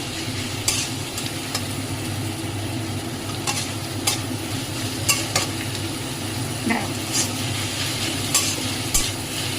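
Chicken marinated in ginger, garlic and coriander paste fries with onions and tomato, a constant sizzle broken by repeated clattering strokes of a spoon stirring against the pan.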